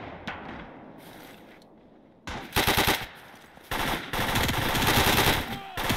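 Machine gun fire in the World War II game Gates of Hell Ostfront comes as loud, close bursts, short at first and then longer sustained streams, with quieter gaps between volleys.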